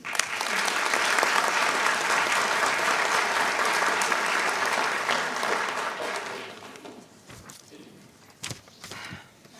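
A school board meeting audience gives sustained, loud applause for a high school Junior ROTC, the clapping dense for about six seconds before tapering into scattered claps and shuffling.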